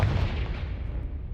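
A Confringo spell blast in Hogwarts Legacy, a single close explosive boom that hits at once and then fades into a rumbling decay.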